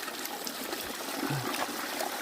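Clear spring water trickling in a forest in the Kathiri hills: a steady, close babbling flow with no pauses or other sounds.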